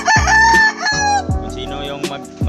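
A pet rooster crows loudly and close by, a long drawn-out call followed by further crowing bursts and clucking from the backyard flock alongside pet goats.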